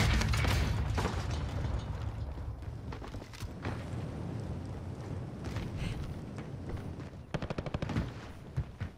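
Small caliber gunfire in Call of Duty Warzone crackles in rapid bursts with sharp shots and mechanical clatter. A dense volley opens the sequence, scattered shots follow, and a fast automatic string comes near the end.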